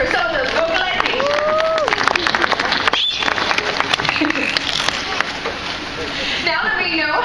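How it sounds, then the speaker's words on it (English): An aquarium audience breaks into applause, a dense crackle of clapping with crowd noise underneath and a few whistles and cheers, with talk mixed in. "Let's give Hannah a round of applause for some of those vocalizations."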